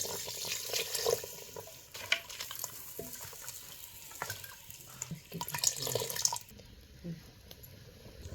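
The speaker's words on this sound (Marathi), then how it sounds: "थोडं वरनं गरम पाणी घालायचं" Hot water poured from above into a thin village-style mountain mutton curry, a steady watery splashing and gurgling close by with some clatter, then fading near the end.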